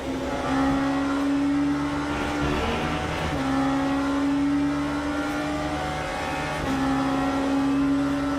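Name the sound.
race car engine in the video game Le Mans Ultimate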